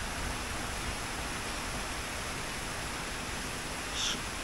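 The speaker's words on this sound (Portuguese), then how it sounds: "Olha o som da água aí." Water flows at the Palácio da Justiça in Brasília, a continuous broadband rush like a fountain or cascade that stays loud and even throughout, with a brief brighter splash near the end and no talking.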